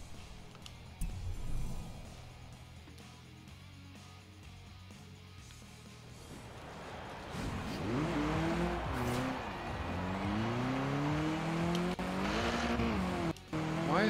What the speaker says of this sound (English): I'm going to drive this car around